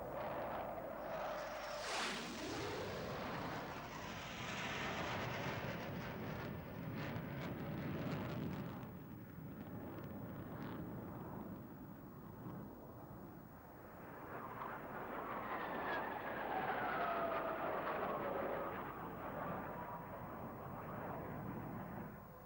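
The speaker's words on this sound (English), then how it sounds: "There were F-4s all over the sky." F-4 fighter jets roar across the sky in a loud, sweeping flyby, the engine noise swelling, fading and building again in a long rumbling pass with no voices.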